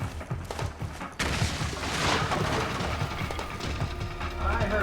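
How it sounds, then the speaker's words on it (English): A stun grenade going off in Metal Gear Solid 4: Guns of the Patriots, a sudden sharp blast followed by a sustained loud ringing wash, with gunfire and movement sounds around it. "stun grenade."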